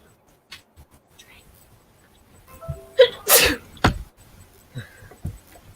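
A single loud, close sneeze bursts out in the middle of a quiet online art-show call, followed by a short exhale, with a few soft clicks and rustles before and after.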